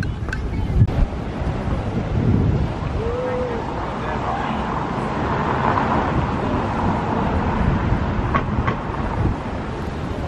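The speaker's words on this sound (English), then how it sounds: "I hope you can see the actual waves there breaking. They're pretty fierce." Fierce ocean waves break on a beach along a seaside walk in Tenerife, a steady wash of surf mixed with strong wind buffeting the microphone for the whole stretch, with faint street sounds.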